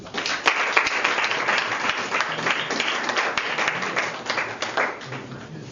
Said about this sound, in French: Leonardo Gazzola, applaudissez pour lui.